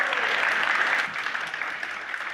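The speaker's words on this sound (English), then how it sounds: "So give yourselves a round of applause." A church congregation applauds at a town hall gathering, a dense, even wash of many hands clapping at moderate volume throughout.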